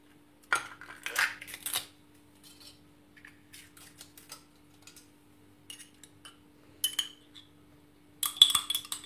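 Eggs, sugar, yeast and plain yogurt stirred together in a bowl for a sorghum flour cake, sparse soft clinks and scrapes of a utensil against the bowl in short bursts with quiet pauses.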